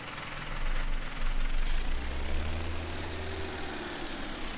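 A tractor engine starts up in the Farming Simulator 17 game, a low rumble rising as it catches and then settling into a steady idle drone, loud and close with no talk over it.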